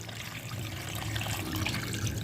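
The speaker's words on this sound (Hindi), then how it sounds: "2 से 3 लीटर पानी ये इसमें शामिल कर देंगे।" Water, two to three litres, splashes steadily into a pot of beef paya with salt for pressure cooking, a continuous close pouring rush without talk.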